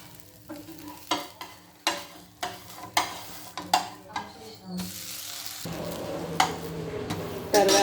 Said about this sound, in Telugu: ఇలా దోశ వేసేసుకొని కొంచెం లైట్గా ఆయిల్ అప్లై చేసుకొని